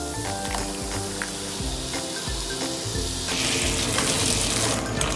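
Ground tomato paste sizzles and fries in a pan for a pink sauce pasta, a steady close hiss that swells louder partway through.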